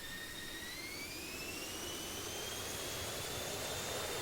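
Continuous loud whine and roar of an F-16C jet engine in the DCS World flight simulator, with a rising tonal whistle over the broadband rush, steady throughout and close; no voices.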